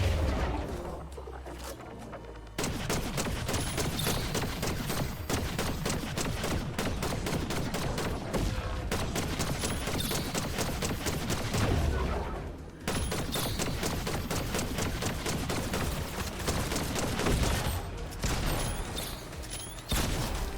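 Rapid gunfire fills a Fortnite Zero Build match, loud, near and almost continuous, with dense bursts and clattering impacts over about twenty seconds and only brief pauses between volleys.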